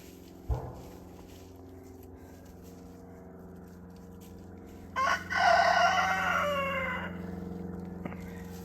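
A happy egg-laying hen gives a brief squawk, and after a pause a rooster crows loudly and clearly for about two seconds over a steady low background hum, followed by a faint cluck.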